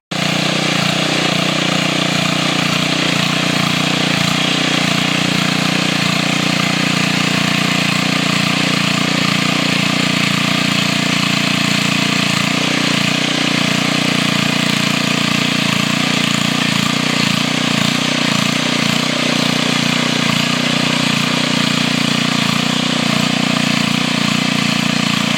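A 4 HP Briggs & Stratton tiller engine idles after its spring start-up, giving off a steady, loud, close mechanical drone with no voices.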